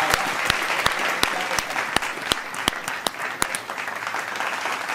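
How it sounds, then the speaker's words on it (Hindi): An audience at an Independence Day poetry gathering breaks into steady applause, with a dense wash of clapping and a few sharp, distinct claps standing out, continuous and fairly close throughout. "ताली बनती है।"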